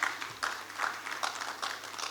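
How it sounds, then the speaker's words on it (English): An audience at the Abuja International Housing Show claps for Builder Kunle Awobodu, President of the Nigeria Institute of Building. The applause is moderate and continuous, heard from a distance in a large hall. "Can we please give him a round of applause?"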